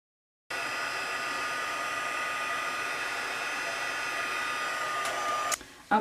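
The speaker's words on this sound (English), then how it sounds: "we're going to grab our heat tool" A heat embossing tool blows with a steady, loud whirring hum, running continuously before it clicks off at the end.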